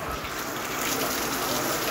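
Heavy downpour at an outdoor produce market, a dense, steady roar of rain with no break.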